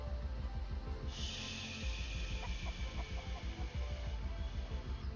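A chicken in the Mist Survival video game clucks in short, repeated bursts over a steady low background, with one brighter squawk-like sound partway through, heard up close with no talk.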